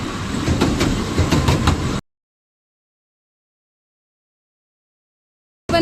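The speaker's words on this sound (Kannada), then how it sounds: "ಮತ್ತೊಂದು ಟ್ರೈನ್ ಬರ್ತಾ ಇದೆ ತೋರಿಸ್ತೀನಿ ನೋಡಿ" Loud rumbling rattle of the Southend Pier train rolling past close by for about two seconds, then silence until a brief burst of the same noise at the end.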